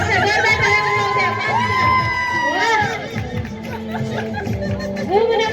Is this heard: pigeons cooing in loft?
no